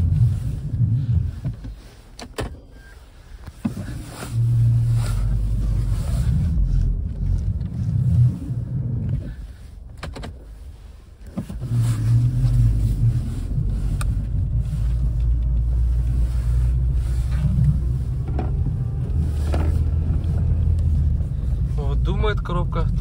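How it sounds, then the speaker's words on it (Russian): A Toyota Auris E150 reverses with a low engine and transmission rumble that rises, drops away briefly, then builds again, with occasional muffled voices underneath. "Проверим, как автомобиль едет назад."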